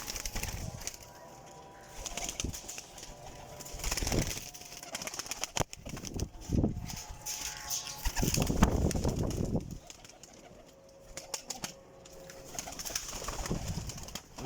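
Sialkoti pigeons coo softly nearby in uneven bursts, with occasional brief wing flaps breaking in between the calls.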